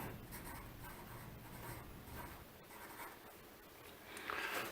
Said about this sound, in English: So I'm going to write down this is for my notes